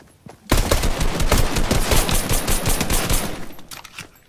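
Rapid automatic gunfire in Fortnite Battle Royale comes as a loud, dense burst of shots lasting about three seconds after a brief pause, with no talk.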